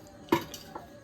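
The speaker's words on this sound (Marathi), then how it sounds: "कढई ठेवलं सुंदर" A metal kadhai set down on a wood-fired stove, one close clunk followed by a fainter light knock, otherwise quiet.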